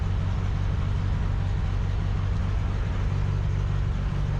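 A vehicle engine idling at about 1500 RPM while warming up, a continuous low rumbling hum, close and steady throughout with no change in pace.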